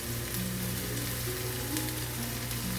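Chicken fried rice sizzling steadily in a hot pan, with a constant close frying hiss and faint crackle throughout and no voices.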